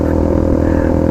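A KTM RC 250 two-stroke motorcycle engine running steadily, a loud, close, buzzy drone with a constant rattly pulse and no talking over it.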